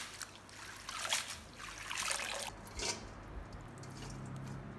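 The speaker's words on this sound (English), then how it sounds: "place the sprouts in a bowl of water to wash them clean" Mung bean sprouts being rinsed in a bowl of water give soft trickling, swishing splashes that rise and fall in a few close waves, with no talking.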